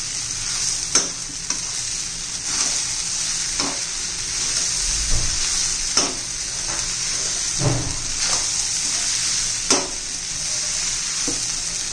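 Tomato-potato pohe sizzles in a hot pan while being stirred and heated, with a steady loud frying hiss and repeated scraping knocks of the spoon, some clunking lower thuds, and no talk.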